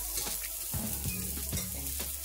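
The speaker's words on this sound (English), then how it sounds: "my chicken is frying too." Chicken sizzles and crackles in hot oil, with low clanking thuds of a utensil stirring in the pan at a close distance.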